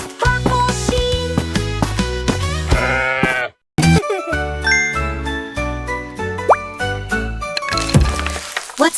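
Sheep bleating in a children's nursery-rhyme song, mixed with jingling chimes and bright musical tones, several short wavering bleats repeating over the music, loud and up front.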